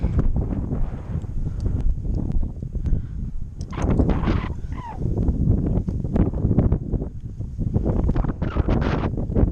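Gusty wind buffets the microphone at an outdoor horse arena, a steady rough roar that swells and eases in waves over nearly ten seconds with no talk.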